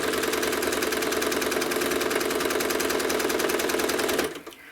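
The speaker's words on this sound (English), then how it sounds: "So as I am quilting," A sewing machine stitches through quilting fabric with a rapid, even mechanical rattle of the needle, loud and close, running steadily for several seconds before stopping near the end.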